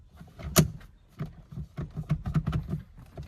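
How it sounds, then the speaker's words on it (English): Several sharp plastic clicks and snaps sound up close as an airbag module is pressed into a Dodge Charger steering wheel, a louder one first and then a quicker scattered series. "apply even pressure to both sides so I hear both click in"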